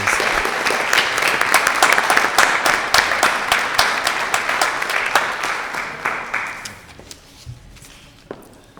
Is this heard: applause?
yes